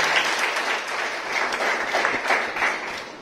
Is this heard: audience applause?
yes